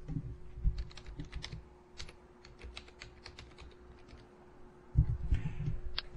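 Keystrokes on a computer keyboard entering an account name into accounting software, a quick run of light taps in a quiet room with a short pause before a final burst, no one talking.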